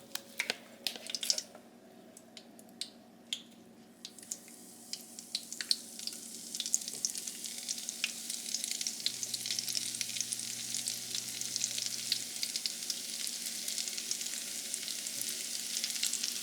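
Keto funnel cake batter made without flour frying in hot oil, a steady crackling sizzle that builds and holds throughout, with a few sharper pops and clinks early on and no one speaking.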